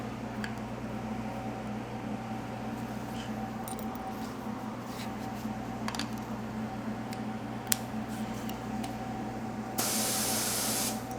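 A spray gun shoots candy paint onto a panel in a shop, giving a steady, even hiss under a constant low hum, with a louder burst of spray near the end.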